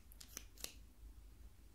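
A few soft, sharp clicks from a hole punch sound close and quiet in an ASMR setting, followed by near silence.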